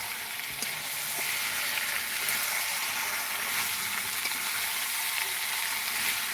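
Chicken sizzles and fries steadily in a pan at home, a continuous close hiss with occasional small pops and no talking.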